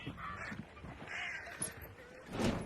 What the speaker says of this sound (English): I'm hearing birds.